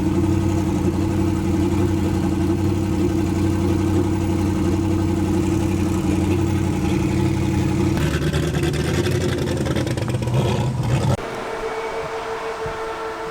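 Engine of a 2020 Chevrolet Malibu with a welded differential and under 10,000 km, a loud steady low droning hum with rattling road noise, which drops to a quieter idle near the end, no talk.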